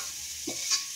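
A spoon stirs potato bread sandwich filling in a pan on a switched-off stove, giving a brief scrape and soft shuffle over a faint sizzling hiss.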